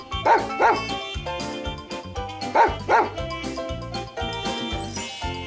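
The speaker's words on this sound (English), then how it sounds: "Meet the dog." A dog barks in spaced pairs of loud, sharp woofs, heard against a tinkling musical background with no speech.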